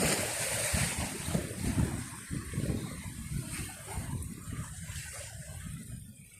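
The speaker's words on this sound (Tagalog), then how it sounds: "Medyo minahay na ng alon pero mahangin pa rin." Sea waves wash onto the shore in rough weather while gusty wind buffets the microphone, a loud, continuous roar with rolling surges.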